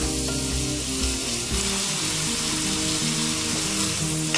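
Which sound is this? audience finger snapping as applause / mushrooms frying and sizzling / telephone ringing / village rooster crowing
mushrooms frying and sizzling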